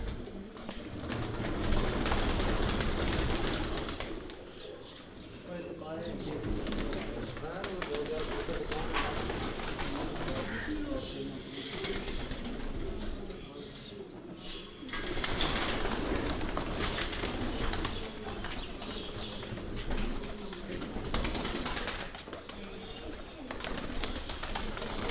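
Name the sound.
Teddy pigeons cooing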